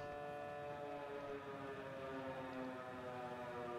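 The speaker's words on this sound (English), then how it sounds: "The sirens are going off." A steady, droning siren wails continuously at moderate distance in Battlefield 4, with layered tones sustained throughout and no talking.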